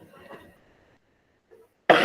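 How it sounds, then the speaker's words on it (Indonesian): A single heavy, harsh cough bursts out suddenly at the end, after a faint murmur and a quiet pause. "batuk berat."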